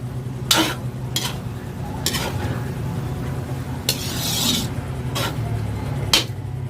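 Pancit canton noodles stir-fried in a pan: a continuous low sizzle broken by sharp scraping strokes of a utensil against the pan at irregular intervals, close and fairly quiet, no talking.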